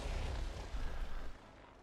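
Booming explosion effect from the Corpse Explosion card in the Hearthstone video game, a dense rumbling burst lasting over a second before cutting off abruptly.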